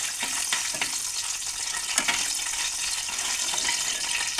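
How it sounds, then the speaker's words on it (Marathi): Nagkesar spice dry roasts in a pan with a steady bright crackling hiss and a few sharper scrapes of stirring, close and continuous. "त्यानंतर हे नागकेशर ते भाजून घ्या."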